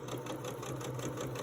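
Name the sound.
sewing machine stitching quilt pieces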